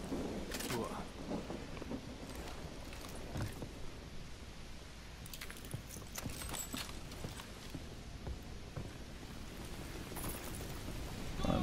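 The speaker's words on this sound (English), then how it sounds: "It's raining now." Rain in the video game Call of Duty: Modern Warfare 2 Remastered falls steadily with a soft hiss, mixed with scattered thumps and clatter, and faint voices in the background.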